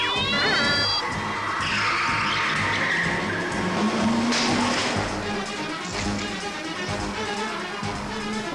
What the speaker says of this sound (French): On dirait une voiture de sport.